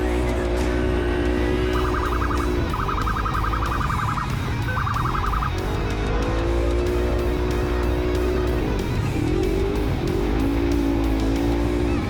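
Forward-facing siren on a Polaris RZR 1000 desert race car, a repeating electronic warble and whoop heard over the loud engine roar and wind noise.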